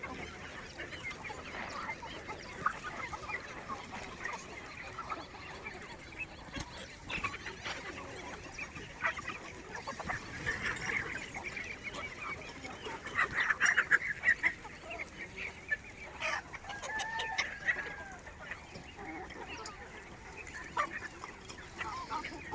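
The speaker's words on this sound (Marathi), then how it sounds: "ते कोंबडा हा कोंबडा कसा तसा धिंगाणा आहे कोंबड्यांचं." Country chickens and a rooster cluck and squawk in the morning, a busy, continuous flock chorus with scattered louder calls, heard at a moderate distance with no talking.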